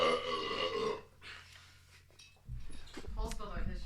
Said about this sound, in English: Oh man, I got a burp.